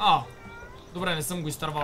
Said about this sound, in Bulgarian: Това беше котката тука.